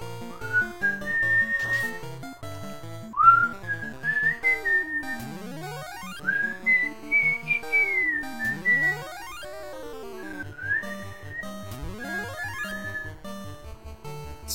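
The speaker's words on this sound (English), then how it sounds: "Sometimes I whistle better than that." A person whistles a melodic tune alone, with wavering pitch, long held notes and repeated sliding glides, close and fairly loud over faint background tones.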